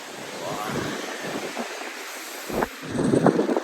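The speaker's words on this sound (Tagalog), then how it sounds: "kalakas-lakas ng hangin. May typhoon ata." Strong gusty storm wind buffets the microphone in rough, roaring bursts, swelling louder toward the end.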